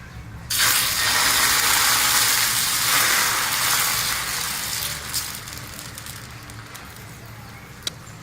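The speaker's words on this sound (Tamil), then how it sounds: "இப்போ நம்ம தோசை ஊற்றிக்கலாம்" Bread dosa batter hits a hot dosa griddle with a sudden loud hiss that settles into a steady sizzle and slowly fades, with a small click near the end.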